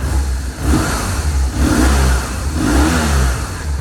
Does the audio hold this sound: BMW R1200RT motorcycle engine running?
yes